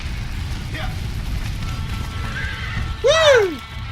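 A horse whinnies loudly in Red Dead Redemption, one rising then falling neigh near the end, over a steady rumble of game ambience and voices.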